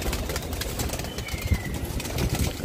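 Domestic pigeons in a loft during rain, a low continuous rumble of cooing and shuffling with occasional soft wing flutters, fairly close and steady throughout.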